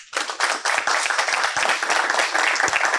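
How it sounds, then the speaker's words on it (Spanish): Applause from the audience for a panel at a forum on sustainable connectivity in Peru, loud dense clapping that starts abruptly and holds steady throughout, close and lively. "quiero pedirle un aplauso para el panel,"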